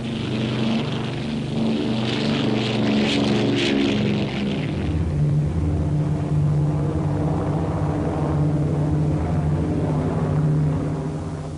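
Four-engine B-24 Liberator bombers of the 7th Air Force drone in flight over the Pacific, a loud continuous propeller roar whose pitch shifts midway.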